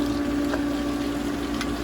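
Hayward pool pump running by a sand filter with a multiport valve, giving a steady close mechanical hum with a faint watery rush, continuous and even without breaks.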